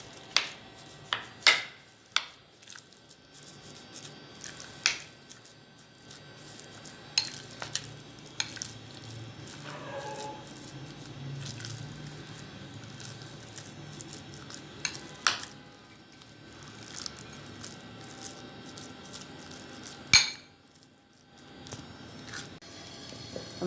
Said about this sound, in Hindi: मसाले को मिक्स करना है।